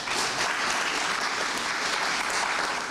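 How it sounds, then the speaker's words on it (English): A crowd gives a sustained round of applause at a Botswana Football Association event, dense steady clapping throughout with no speech. "He deserves a round of applause for that."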